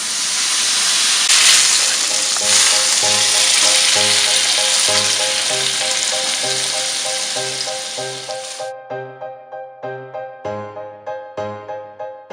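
Butter sizzles loudly and steadily in a hot pan for French toast, a close, hissing crackle. After several seconds it cuts off abruptly, and a series of rhythmic tonal pulses takes its place.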